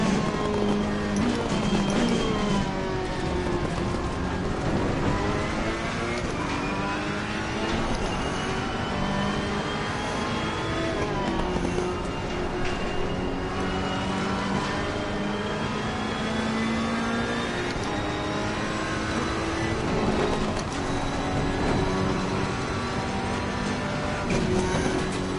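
Porsche race car engine in Assetto Corsa Competizione at Bathurst, a loud continuous roar that rises and falls through the gears with other cars close by, sustained throughout with no pauses.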